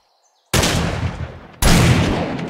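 Two loud, booming video-game gunshots from 7 Days to Die ring out about a second apart, each trailing off in a rumbling echo.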